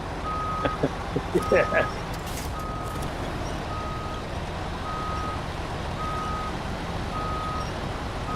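A Mack truck in SnowRunner sounds a reverse warning beep, evenly spaced single tones repeating steadily in the background, with a brief spoken word and a few short clanks early on.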